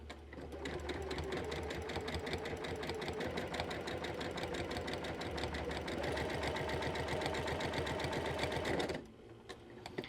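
A sewing machine fitted with a quarter-inch seam foot stitches fabric in a fast, steady mechanical patter, running continuously before stopping abruptly near the end, leaving only faint room sound.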